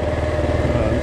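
The engine of an old-school Kawasaki KLR adventure motorcycle throbs in a loud, close, steady low-pitched rhythm, as if idling or riding at low speed, with no speech.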